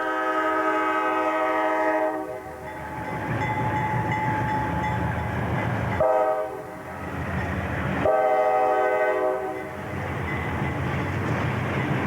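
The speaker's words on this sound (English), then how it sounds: "In Ashland, Massachusetts, Conrail with CSX power slowly moves a mixed train through town." A Conrail mixed freight train hauled by CSX locomotives rolls slowly through Ashland, Massachusetts, sounding several long, loud horn blasts over the low rumble of the engines and cars.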